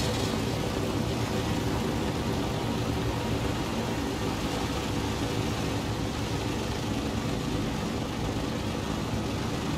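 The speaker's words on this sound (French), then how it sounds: "on va lancer le démarrage du moteur avec l'interrupteur mèche" Radial piston engine of a DC-3 airliner in Microsoft Flight Simulator 2020, running as a steady, loud low drone with a broad rumble held evenly throughout, no talk over it.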